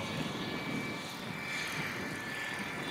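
A steady, whirring rotor drone from a radio-controlled model helicopter at a model aircraft meet hums continuously at a moderate distance, with a thin high-pitched whine riding on top.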